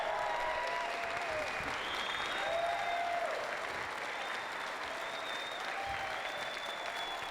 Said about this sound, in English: Give a big round of applause to our guests for coming here tonight.